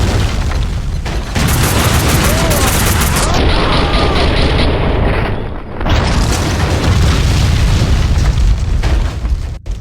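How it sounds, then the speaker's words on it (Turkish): Loud, continuous explosions and booming blasts fill the scene in Max Payne 2, with rumbling debris and crashing layered throughout and a brief dip midway before the barrage resumes. "Her yer yıkılıyor. Ne çok patlama var."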